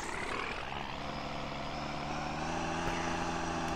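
A simulated AmTran B800 bus engine in the game Rigs of Rods revs up with a steady, droning harmonic hum that rises slightly, fairly quiet and without talk.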